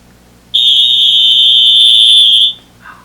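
A whistle sound effect played for a children's listening game: one steady, shrill, high tone held for about two seconds, loud and clean against near silence, then cut off.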